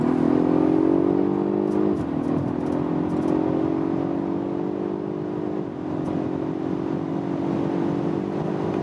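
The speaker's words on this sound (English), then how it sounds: "We can once more go to this power mode and acceleration when we are already at speed from 90 kilometers an hour." A Polestar 1 plug-in hybrid accelerates hard in power mode from about 90 km/h, its engine a loud rising drone with pitch climbing steadily and briefly dropping at two shift points, under wind and road noise.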